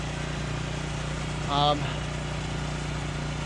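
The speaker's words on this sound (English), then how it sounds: "Sorry about the generator noise," A steady low engine drone of a generator running throughout, with a brief higher-pitched tonal sound rising over it midway.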